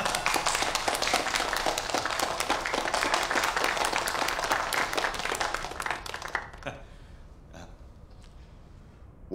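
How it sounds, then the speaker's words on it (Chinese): An audience claps loudly and densely to welcome a new public security bureau chief, the applause sustained for several seconds before thinning into scattered claps and fading. "让我们用最热烈的掌声欢迎他"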